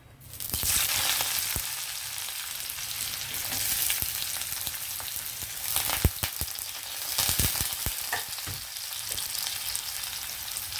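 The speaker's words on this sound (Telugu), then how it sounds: "ఇదే ఆయిల్లో మనము ఆనియన్ వేసి ఫ్రై చేద్దామండి" Onions frying in hot oil in a pan, a steady bright sizzle that stays loud and continuous throughout, with a few brief clinks of stirring, no voices.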